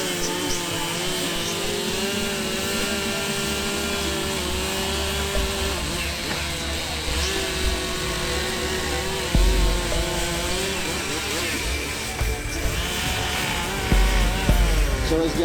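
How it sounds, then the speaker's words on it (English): Chainsaws carving wood at an outdoor country show, a steady loud buzzing drone with engine pitch rising and falling throughout, surging louder near the end. "carving with chainsaws"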